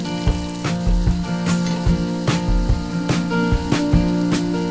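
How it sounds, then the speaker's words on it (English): Onions sizzle in a hot pot, a steady crackling hiss broken by sharp clinks and scrapes of stirring, over low background music. "I just love the sound of sizzling onion."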